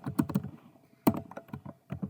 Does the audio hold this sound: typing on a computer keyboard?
yes